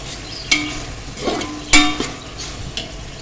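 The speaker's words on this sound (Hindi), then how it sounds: "अब इसको हमने चनों के साथ मसालों को हमने अच्छे से भून लेना है" Boiled chickpeas and spices fry in oil in a pot for chana biryani, with a low steady sizzle broken by several sharp metallic spoon clanks and scraping stirs against the pan.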